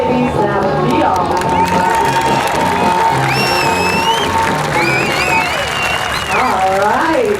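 A square dancing audience applauds and cheers steadily throughout, dense clapping mixed with crowd noise and scattered voices, with a caller's voice and some whistles or squeals rising above the crowd near the end.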